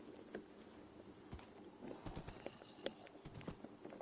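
Horses in a survival video game plod along, their hooves clip-clopping in a loose, irregular walking rhythm, quiet and close with no talking.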